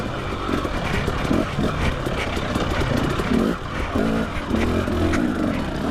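A 2017 Husqvarna TX 300 dirt bike ridden over sharp rocky terrain: loud, continuous engine roar with rough, broadband rattling and wind noise, fluctuating slightly as the bike works through the rocks.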